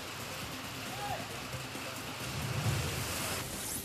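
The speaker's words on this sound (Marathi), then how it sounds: "पावसानं पहाटेपासून जोरदार हजेरी लावली" Heavy pre-monsoon rain falls as a faint, steady hiss of drops spattering on surfaces, continuous and distant-sounding with no voices.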